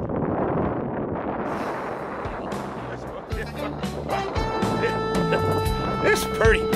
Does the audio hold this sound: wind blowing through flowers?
yes